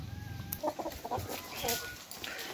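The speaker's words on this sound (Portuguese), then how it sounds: "Já vieram aqui, pessoal, as galinhas." Chickens gather to peck at scattered corn on a farm, a flock of Brahma-type birds clucking in short, overlapping bursts close by, with scratchy movement between calls and no talking.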